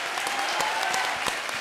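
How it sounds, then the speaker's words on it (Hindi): A comedy show audience applauds for the arriving heroes in a steady burst of dense clapping, filling the stage with sustained noise for a short stretch. "जोरदार तालियां।"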